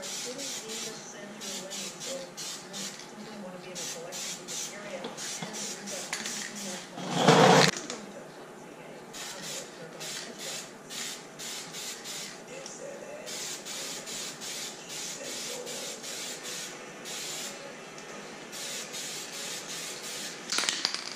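Base coat paint hisses from a spray can onto Yamaha Raptor 660R front shocks in many short repeated bursts, with one longer louder blast midway, heard up close at low volume.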